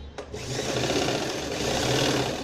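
A sewing machine stitches fabric for a party-wear gown, a steady continuous whir running close and fairly loud after a brief start, with no talking.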